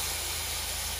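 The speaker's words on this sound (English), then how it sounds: "Listen to the sizzle. We got our short ribs on" Short ribs sizzle on a grill at a primitive campsite in Cades Cove in the Smoky Mountains, a continuous close hiss of frying fat with no talk over it.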